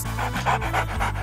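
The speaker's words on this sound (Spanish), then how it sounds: "Cuatro perros." Dogs pant in quick, rhythmic breaths, close and fairly loud, with no one speaking.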